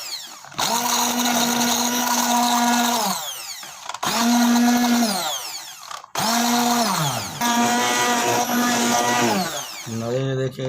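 A kitchen grinder blends garlic cloves, two eggs and green chili into burger sauce, whirring loudly in four bursts with brief pauses between, its pitch sagging under load, with no talking.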